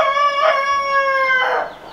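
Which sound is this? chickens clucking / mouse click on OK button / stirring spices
chickens clucking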